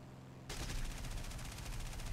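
Rapid bursts of aircraft cannon fire in the video game War Thunder hammer continuously after a short quiet lead-in, dense and punchy with a synthetic, game-like quality.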